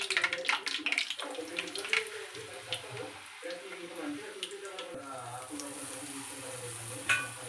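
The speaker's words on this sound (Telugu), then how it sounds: "నూనె వేడెక్కాక పూరీ ఇలా వేసేసి ఆయిల్ని నాలుతూ ఉంటే పూరి చూసారా ఫ్రెండ్స్ ఎలా పొంగుతుందో" Puri fries in hot oil with a steady bubbling sizzle, while oil is spooned over it in uneven splashy strokes, fairly close and moderately quiet.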